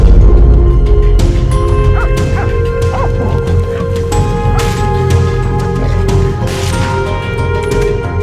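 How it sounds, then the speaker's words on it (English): Hunting dogs bark and yip repeatedly in an outdoor setting during a wild hog hunt, the barking steady and fairly close over a constant background din, with whimpering mixed in and no talk. "Suddenly, the hunting dogs barked furiously, signaling something was near."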